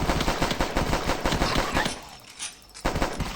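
Rapid automatic gunfire in The Last Stand video game rattles off in loud, dense bursts, drops away briefly to a quieter gap, then resumes abruptly.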